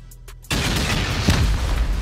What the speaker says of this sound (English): Rockets are needed.